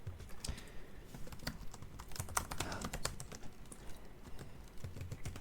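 Computer keyboard typing for ASMR, with rapid clicky keystrokes in a continuous, uneven rhythm, close and fairly soft.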